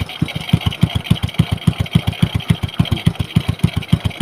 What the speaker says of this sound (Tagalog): papainitin muna natin yung ating motor Raptor cab